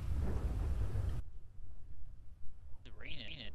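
Rain and thunder in the video game GTA 5, a loud rumbling burst of storm noise that cuts off after about a second, followed by quiet background and a brief voice.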